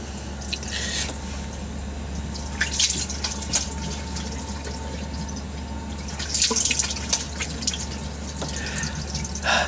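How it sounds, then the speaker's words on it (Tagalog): Cold tap water runs steadily into a sink during a face wash, with a continuous low rush and scattered splashing bursts as hands scoop and splash water, fairly close and alone without talk. "So maghihilamos po tayo ngayon. Pero sobrang lamig ng tubig dito."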